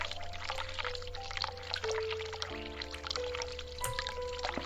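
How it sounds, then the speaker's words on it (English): A hot water tap gushes continuously in The Cat Lady, a dense steady pouring rush at moderate loudness with sustained tonal music notes and a low hum running beneath it. "And the hot water tap."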